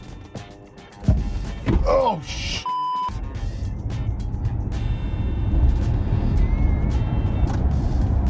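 A Kia EV6 GT electric car accelerating hard: after a few beeps and a thump, a rising electric whine and road roar build steadily and grow louder, with a startled voice exclaiming over it.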